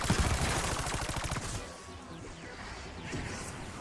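Rapid bursts of Z-REX SMG gunfire from Black Ops 6 Zombies crackle in quick succession at first, then thin into scattered impacts and whooshes at a lower level.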